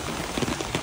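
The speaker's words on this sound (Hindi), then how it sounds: "देख रहे हो सामने बारिश कितनी तेज़ हो रही है।" Heavy rain pours down outdoors in Gozo, Malta, a dense, loud, continuous wash of drops pattering on surfaces close by, with slight swells in intensity and no talking.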